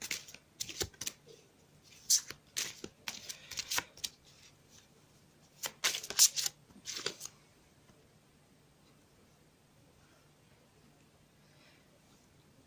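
Cartomancy cards are shuffled and drawn close by in a series of quick, crisp riffling and slapping bursts over the first seven seconds, followed by near silence.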